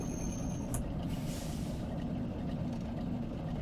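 The engine of a vintage bus in the OMSI 2 simulator drones low and steady, with a brief hiss of air near the start.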